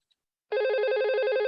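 A telephone bell rings in a steady, buzzing electronic trill that starts abruptly after a brief silence and continues loud and close, alone without talk.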